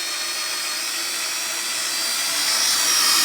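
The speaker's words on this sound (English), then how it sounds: "I've never heard a drill go so slowly." A drill turning very slowly while drilling a standard threaded hole, a steady high whine with a faint grinding undertone that grows slightly louder toward the end, with no voices.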